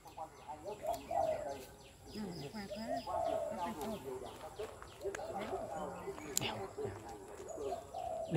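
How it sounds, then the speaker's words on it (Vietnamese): Domestic chickens on a farm in the Vietnamese countryside make bird calls and soft coos through most of the stretch, partly under people talking nearby. "Đây là có mấy chú gà nhà mình."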